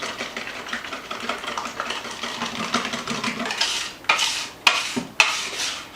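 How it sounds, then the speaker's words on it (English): A liquid bread pudding mixture whisked by hand in a bowl, giving a steady wet swishing stir that ends in a few sharp clinks of the whisk against the bowl, close and alone. "we're just going to mix this until it's all combined really well"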